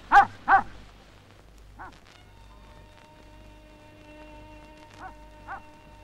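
A Mongolian Bankhar guard dog barks at night: two sharp close barks, then a softer one, a pause with a faint whine, and two more distant-sounding barks.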